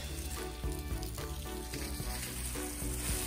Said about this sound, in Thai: ส้มก็เอามาฉีดน้ำทำความสะอาดนะคะ